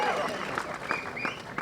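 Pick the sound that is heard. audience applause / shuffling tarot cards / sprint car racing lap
audience applause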